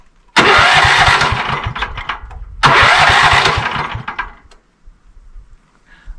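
A rotary tiller engine being worked on during tilling is started twice. Each time a loud, close chugging run lasts a couple of seconds and then dies away, followed by near silence.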